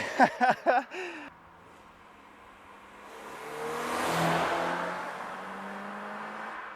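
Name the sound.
car engine revving with aftermarket header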